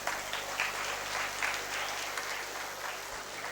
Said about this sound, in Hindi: एक बार श्री सुनील त्रिपाठी सर के लिए जोरदार तालियां।